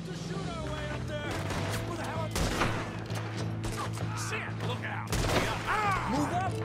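A Red Dead Redemption 2 gunfight, with repeated gunshots cracking over a constant low rumble and a background score. Voices shout through the exchange.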